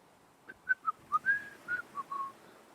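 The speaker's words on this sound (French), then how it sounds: "Qui arrive, tranquillement, en sifflotant." A person whistles a short, casual tune of about eight bright notes, close and fairly quiet, with nothing else around.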